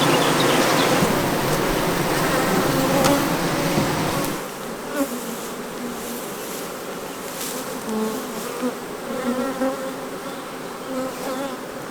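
Honey bees swarm and buzz densely around spring beehives that needed feeding, a loud, continuous outdoor hum that starts heavy and thick, then eases to a steadier, slightly thinner drone with occasional closer fly-bys.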